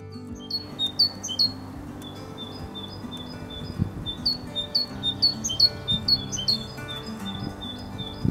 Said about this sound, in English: Great tits have an amazing repertoire of calls and have been known to mimic other species.